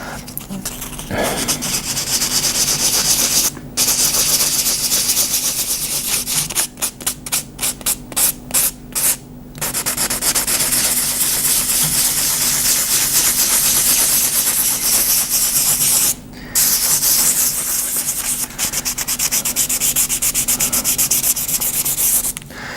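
Wet sanding on the finish of a DIY guitar kit body: continuous close rubbing strokes with a rhythmic scrubbing texture, broken by a few brief pauses and quick bursts, with no talk.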